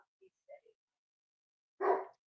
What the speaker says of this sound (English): while the dogs were barking